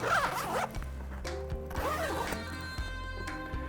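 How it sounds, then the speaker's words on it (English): A zipper on the organizational panel of a camera bag is pulled closed in several close, loud rasping strokes with short pauses between them. "So I'm gonna zip this organizational panel back up"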